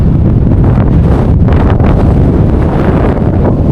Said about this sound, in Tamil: காற்று வச்சு அந்த பக்கம் தூக்கி போட்டுருக்கலாம்.